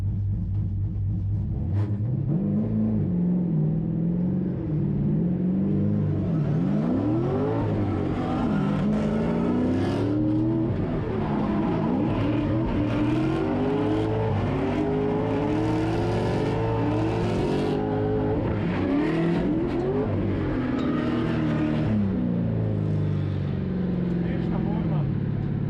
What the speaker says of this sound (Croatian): Samo mora do kraja Peter Broli napraviti vožnju.